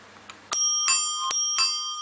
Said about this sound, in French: La sonnette.